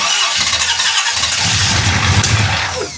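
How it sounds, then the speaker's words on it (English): Starter motor cranking a big-block Chevy 427 V8 engine, a loud grinding whir with rumbling turnover, continuous and close, trailing off near the end. "How good does that starter sound, though? Oh, I love that starter."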